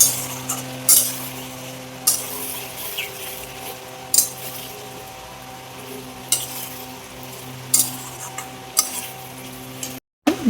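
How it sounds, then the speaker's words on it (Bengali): Fried pointed gourd, potol, being stirred with spice paste in a pan for niramish potol posto, a low sizzle broken by periodic sharp spatula knocks against the pan, close, without talking. "পটলগুলো ভালো করে মশলার সাথে কষাবো, মেশাবো।"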